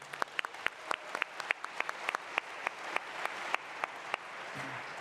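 An audience claps steadily through a political talk about the Lincoln Project, a sustained wash of applause with individual sharp claps standing out in a regular rhythm.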